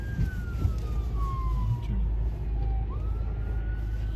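A fire and ambulance siren wails in a long falling tone that rises again near the end, heard over steady traffic rumble and wind in Bahrain.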